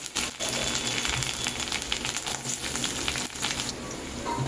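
Carrots drop into hot oil seasoned with cardamom, cinnamon and clove for a home-style vegetable dal. After a brief gap the sizzle bursts up, then holds as a steady, close crackle that shifts slightly near the end.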